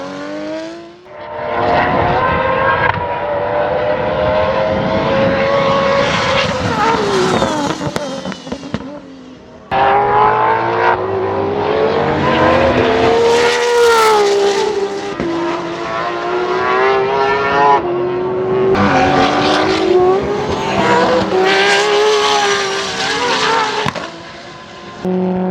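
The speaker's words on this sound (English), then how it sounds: "This is Tasmania's fastest circuit racing car." An RB26-powered R32 Skyline sports sedan circuit race car screams at high rpm, loud and close, with rising pulls, a sharp gear-change break, then another long sustained high-revving run.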